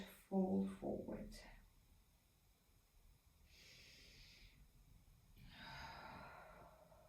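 Slow, deep breaths during a yoga stretch, a few soft exhales and inhales drawn out over several seconds after a brief burst of talking at the start.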